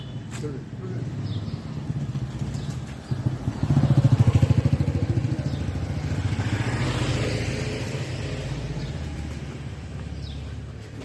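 A motorcycle idles nearby, its steady low engine throb rising to a louder rev near the middle before settling into a constant running note, with faint voices in the background.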